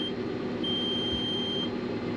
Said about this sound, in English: Sets off my E431 alarm because the bale sensor's bad.